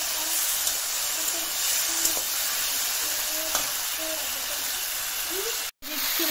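Potatoes and okra fry in a pan with chilli powder, giving a steady close sizzle and hiss broken by soft scraping stirs, with one brief dropout near the end.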